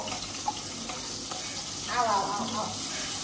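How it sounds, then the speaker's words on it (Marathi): Green chili and onion sauté in hot oil with a soft, close sizzle, while a short burst of stirring and scraping in the pan comes near the end. "मिरची आणि हा कांदा आपण तेलात टाकलेला आहे, तो आता ही परतवून घेईल."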